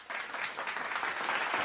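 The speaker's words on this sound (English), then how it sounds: "So let me give you a round of applause." A brief burst of applause on a livestream, faint and even, lasting under two seconds with no voices over it.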